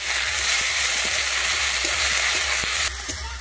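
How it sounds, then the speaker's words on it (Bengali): Finely chopped tomato sizzles in hot oil with ginger, garlic and green chilli, a loud continuous frying hiss broken by a few soft stirring knocks. "আমার টমেটোটা কিন্তু খুব সুন্দর ভাজা হয়ে গেছে।"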